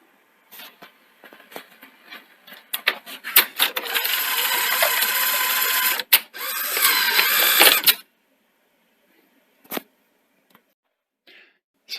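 A Sony SL-C30 Betamax front-loading deck mechanism whirring, clicking and ratcheting close up, with a sustained loud run of several seconds followed by sparse clicks and quiet gaps.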